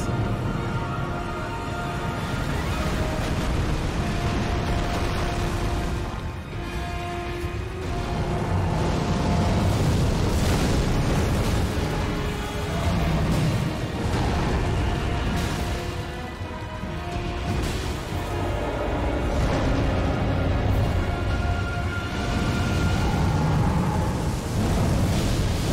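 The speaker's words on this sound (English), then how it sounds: "Doing exploding rocks." Exploding rocks in Elden Ring, a continuous rumbling roar of blasts and crashing debris that swells and ebbs over about twenty-five seconds, loud and close, with no talk.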